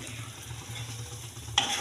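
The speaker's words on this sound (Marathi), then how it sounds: "मस्त हलवून घेऊया." Semolina sheera being stirred in ghee in a pan: a soft, low scraping sizzle, fairly faint, ending in a sudden brighter clink or scrape near the end, with no talking.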